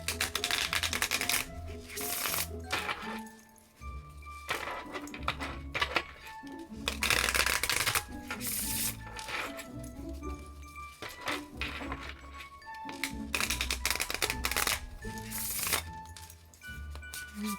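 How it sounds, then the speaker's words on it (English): Cards are riffled and bridged repeatedly, crisp fluttering bursts coming in rhythmic rounds, close and clear with no talking. "let's shuffle for the mystery cards for the trick-or-treat reading"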